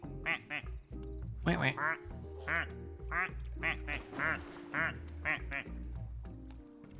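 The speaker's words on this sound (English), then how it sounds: "Oh, this freaking cacti duck." Cartoonish duck quacks from a cacti duck in a video game, repeated in short bursts roughly every half second, loud and close, with someone talking over them.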